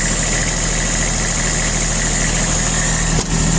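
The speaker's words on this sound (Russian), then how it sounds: "По работе трактора также, я думаю, слышно, что работает ровно" A Kubota Aste A-155 tractor with hydraulic tilt and a 1.25 m rotary tiller runs evenly at a steady idle. Its loud, continuous engine drone holds without a break from start to end, and no one speaks.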